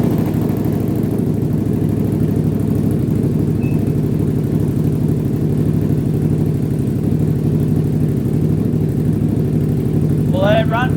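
An upgraded Can-Am ATV, converted from an 850 to a 1000 with a freshly flashed unlocked ECM tune, idles steadily at close range with a loud, continuous low rumble, and a short chirp sounds near the end.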